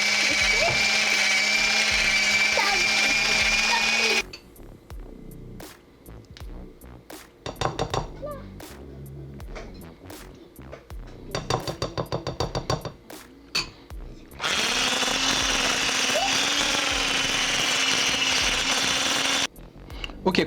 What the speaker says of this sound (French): Et bien maintenant, on va le mixer.